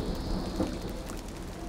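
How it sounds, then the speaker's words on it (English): Soft, dense patter of rain falling, steady hiss with faint distant rumble, heard alone without voices. "when suddenly it starts to rain."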